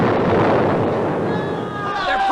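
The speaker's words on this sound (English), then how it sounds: "It's somebody else firing on them!" Cannon or gunfire blasts on attacking pirates at a island fort, heard as a loud, continuous rumbling barrage with whistling shots overhead, blending into dense battle noise with shouting voices.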